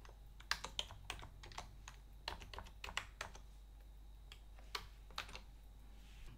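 A password being typed on a computer keyboard while creating a Moodle user account: quick, close, irregular key clicks in bursts with short pauses, quiet, with no talking.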